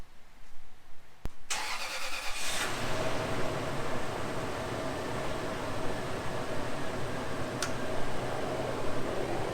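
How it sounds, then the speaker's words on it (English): A Toyota Land Cruiser 100 series engine cranks briefly with a click and a whir, catches, and then settles into a steady, close idle rumble that continues to the end with no one talking. "Let me start the car and see if I can reach"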